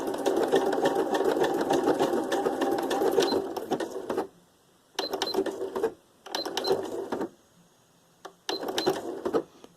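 A sewing machine stitches embellishments onto junk-journal tags in bursts, running fast for several seconds, pausing, then starting again in shorter runs with a steady mechanical whir close by.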